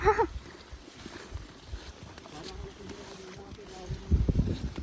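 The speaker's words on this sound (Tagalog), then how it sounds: "Yun naman ang hangin." Gusty wind buffets the microphone outdoors on Mt. Pulag, a steady rushing roar with a brief voice at the start and louder gusts near the end.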